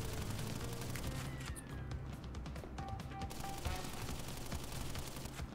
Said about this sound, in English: Look at him with a Tommy gun. He's shooting bullets?